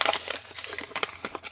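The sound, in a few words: paper document being crumpled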